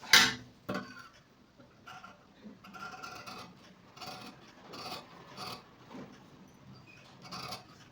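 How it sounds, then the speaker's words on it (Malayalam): Scissors cutting churidar fabric along a marked line, a series of soft, close snipping and rasping strokes at irregular intervals with quiet pauses between them. "ആദ്യം ഈ ലൈനിൽ കൂടെ വെട്ടിയെടുക്കാം അതിന് ശേഷം ഇത് വെട്ടിയെടുക്കാം"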